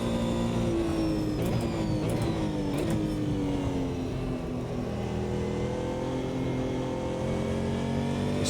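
A Porsche GT1 race car with a flat-six engine in the Automobilista 2 racing game, a steady loud drone holding a low, slightly lethargic pitch that sags and shifts gradually, continuous and close throughout.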